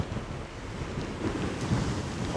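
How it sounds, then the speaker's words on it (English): Storm waves crash and surge against the Dawlish sea wall in a constant roar, with strong wind buffeting the microphone throughout. "See the waves coming up."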